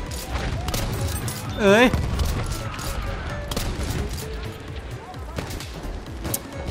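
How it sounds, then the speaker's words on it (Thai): Shotgun fire in the Battlefield 1 video game: several sharp, booming shots over steady in-game battle noise, with a voice exclaiming and talking throughout. "เนี่ยมันคือลูกซองนัดเดียวเลยทุกคน"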